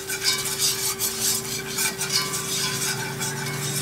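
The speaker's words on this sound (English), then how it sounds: "And we'll whisk that in" Steady scraping and swirling of a whisk working flour into hot bacon grease in a pan for gravy, continuous and close, with a faint sizzle underneath and no talking.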